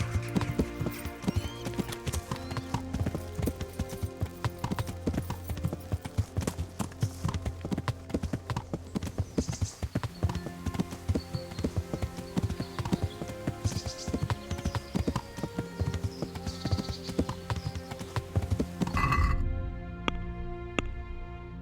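Rapid hoofbeats of a galloping horse in Kingdom Come: Deliverance run continuously over game music and effects, with a brief neigh near the end.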